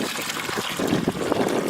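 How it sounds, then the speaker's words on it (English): Black walnut sap poured into a bucket, a close, loud, continuous splashing trickle that thickens partway through. "And we'll pour that much into the bucket."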